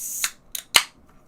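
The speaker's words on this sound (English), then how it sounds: "So let's crack this guy and see what we get on the smell" A can of Adroit Theory Brewing's Death of Civilization in Slow Motion IV beer being cracked open, with a few short, crisp metallic snaps and hissing bursts close up, then quiet.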